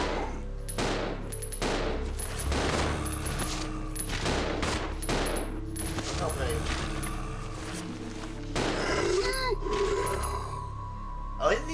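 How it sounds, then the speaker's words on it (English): Zombie-shooting gunfire in Resident Evil 0 cracks out as repeated loud single shots at an irregular pace, layered with in-game grunts and ambient noise while people talk over the action. "I'm gonna shoot these guys."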